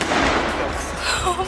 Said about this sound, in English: I thought those are gunshots, but they're rockets that people shoot off.